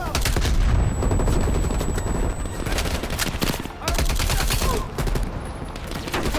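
Rapid bursts of gunfire from a firefight in Call of Duty Black Ops Cold War, dense and loud, with short pauses between volleys and faint voices underneath.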